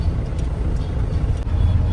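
Steady roar of heavy road traffic on a congested, busy road, cars and trucks rumbling close by in a continuous low drone, with no voices.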